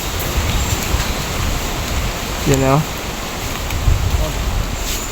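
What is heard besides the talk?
strong wind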